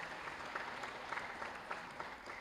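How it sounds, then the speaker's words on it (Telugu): Audience applause for singers and songwriters at a Telugu cultural program, a steady dense clatter of many hands clapping throughout with no voices on top. "ఆ ప్రతి ఒక్క సింగర్కి, రైటర్కి కూడా మనం అందరం చప్పట్లు కొడదాం."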